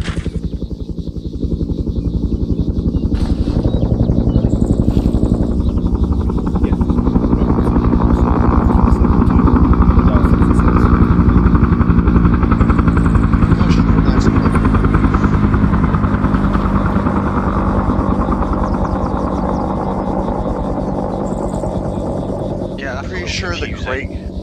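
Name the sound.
helicopter in a video game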